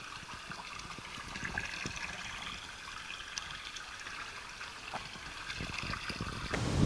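Water pours and trickles steadily from an old fountain out in the countryside, a continuous nearby splashing stream with no talk.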